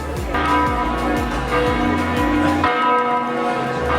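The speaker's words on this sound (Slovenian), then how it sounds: "ravno zvoni 12" A church bell tolls loudly and steadily, striking twelve, its ringing strikes repeating at an even pace with a rich, sustained resonance.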